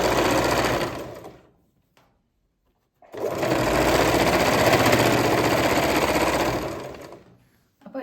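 A sewing machine top-stitching fabric runs in two bursts, a short run and then a longer steady one, separated by a pause of near silence. The motor whirs and the needle chatters rapidly, close and clear.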